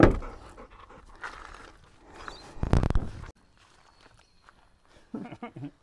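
A dog pants close by in quick breathy bursts with shuffling footsteps and rustling, near a dam on a fishing outing; a voice speaks nearby and it goes quiet midway before more movement.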